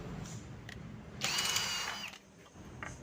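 DCA ADJZ03-13 hammer drill drilling, using a 10 mm bit, in a short loud whining burst of about a second between quieter tool noises.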